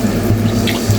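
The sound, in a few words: water poured into fish curry for gravy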